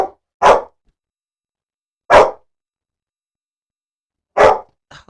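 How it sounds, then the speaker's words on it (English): A dog barks three times, single sharp barks spaced a couple of seconds apart with silence between, loud and close, followed by a faint short sound at the end. "my dog is barking now"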